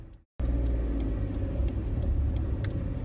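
A Peugeot 107 small city car, due a front wheel bearing replacement, drives with a loud, steady engine and road drone close by after a brief moment of quiet at the start.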